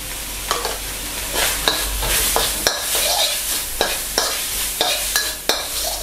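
Minced pork being stir-fried with curry paste and stink beans in a hot pan, with steady sizzling broken by repeated sharp scrapes and stirring strokes at an irregular rhythm, close and fairly loud with no talking.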